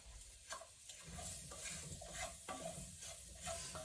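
Curry powder and turmeric sizzle and fry in a pot as a spoon stirs them in steady scraping strokes, close and continuous, with no talking.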